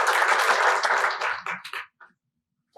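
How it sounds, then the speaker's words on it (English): A small audience at an affordable housing coalition meeting claps steadily for a guest coming up, then the applause thins into a few scattered claps and fades out to quiet. "Let's give him a round of applause."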